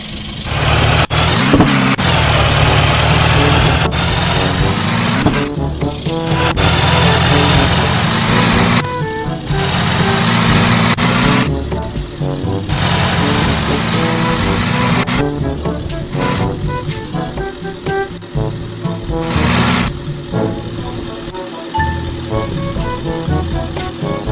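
A car engine drones steadily while driving in the Roblox video game with a manual gearbox, the pitch rising and dropping through repeated gear changes at constant loudness, alone without speech.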